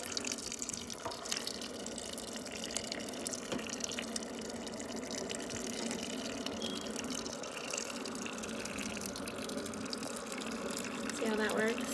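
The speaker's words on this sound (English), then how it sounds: "see how the water's hitting the noodles, the dry noodles, and making them moist" Hot water poured from a container onto dry noodles for a stove-free lunch, a steady splashing, trickling pour that runs close and continuously throughout.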